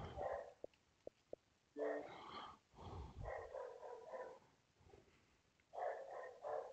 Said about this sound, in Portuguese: Ajudar meu cachorro tá latindo.